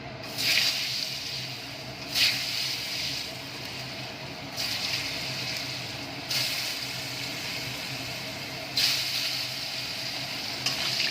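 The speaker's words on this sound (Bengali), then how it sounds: "এবার আমি কড়াইতে দিয়ে দেব আলুগুলো ভাজতে।" Potatoes fry in hot oil in a kadai after fish was fried in it: a steady close sizzle and hiss runs throughout, with brief louder bursts every few seconds and no talking.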